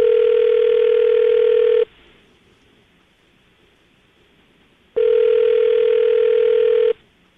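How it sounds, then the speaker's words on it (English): A telephone rings on a call being placed, two long steady electronic rings separated by a few seconds of near silence, loud and clear with no voices. "I'm going to dial the phone number right now, get her on the phone"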